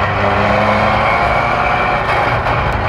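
Cabin sound from a rear-wheel-drive restomod classic Vauxhall under way: a loud, continuous engine roar, close and dense, even under light throttle.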